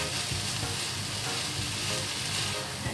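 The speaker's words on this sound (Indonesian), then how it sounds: "Lalu kita tumis sampai kemanginya layu." Fish filling with lemon basil stir-frying in a pan for panada, a steady close sizzle and crackle of frying with soft stirring scrapes throughout, no voices.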